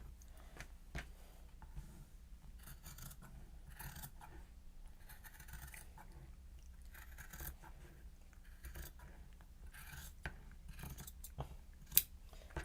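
Fabric shears snip through Japanese fabric in a quiet room, a steady series of faint, close crisp cuts and soft rustles with an occasional sharper click.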